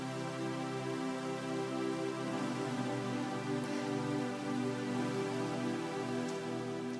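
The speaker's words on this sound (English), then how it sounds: "So that synth pad just sounds like this." A steady, sustained synth pad from Reason, droning evenly at low volume with no breaks, attacks or voices.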